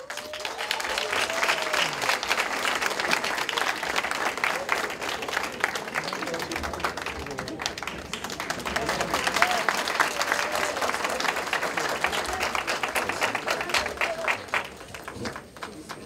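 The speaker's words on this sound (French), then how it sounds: "Je vous demande d'applaudir Maître Aminata Bari." Audience at a cultural gala breaks into sustained, dense applause, many hands clapping together at a steady loud level for around fifteen seconds before it tapers off, with voices mixed faintly into the crowd.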